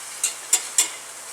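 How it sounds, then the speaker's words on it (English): Three quick, evenly spaced scraping strokes of a whisk stirring flour into hot oil in a pan to start a roux for New Orleans shrimp étouffée, close and fairly light, with no talking. "we've got some oil heated up in a pan, and so we're going to add our flour, and we're going to whisk this up"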